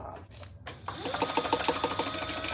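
A sewing machine runs a steady, rapid stitching rhythm while top-stitching the sides and top of a small fabric Darling Wallet, starting after a brief pause and continuing close and moderately loud over low background hum.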